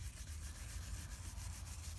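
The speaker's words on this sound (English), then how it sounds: "just spend a little time just giving it a good old scrub" Detailing brush scrubbing interior shampoo on car pedals, a soft continuous rubbing with quick back-and-forth strokes, close but quiet, no voices.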